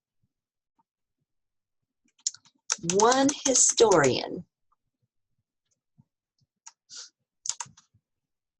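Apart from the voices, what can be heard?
typing on a computer keyboard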